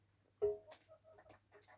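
A hen gives a few soft clucks over a low steady hum, with quieter farmyard sounds scattered after.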